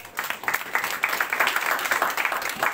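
A church congregation applauds during a sermon, a close, lively patter of many hands clapping in a quick, uneven rhythm for about three seconds.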